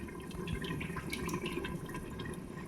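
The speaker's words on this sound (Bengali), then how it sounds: "কড়াই গরম হয়ে গেছে, এখন রিফাইন তেল দিব" Fortune refined oil is poured into a hot kadai, giving a faint, soft liquid trickle and gentle glugging heard alone and close.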